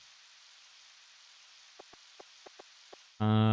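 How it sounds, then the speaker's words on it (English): Rain falls in Harvest Moon 64, a steady, even hiss of downpour with a few soft clicks before a sudden loud tone cuts in. "since today it's raining"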